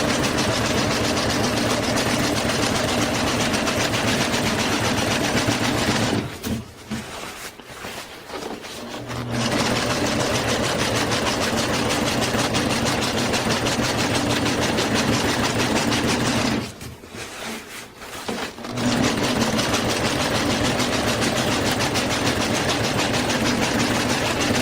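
Sewing machine stitching a homemade camping tarp, a loud steady mechanical whir with a fast needle rhythm, running continuously apart from two brief pauses where it stops and restarts.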